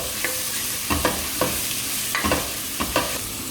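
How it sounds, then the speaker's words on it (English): Ginger and garlic fry with onion in a pan for a prawn pulao, a steady broadband sizzle broken by several sharp scraping strokes of a spoon stirring through, close and fairly loud with no talk. "once you fried the ginger garlic well"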